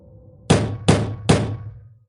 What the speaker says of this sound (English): Something was knocking on the window.